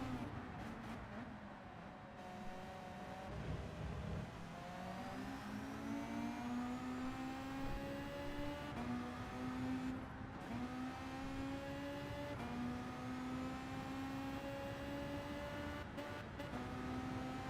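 Race car in Gran Turismo 7, engine revving through rising gear-shift sweeps and steady acceleration, loud and continuous from start to finish with no voices.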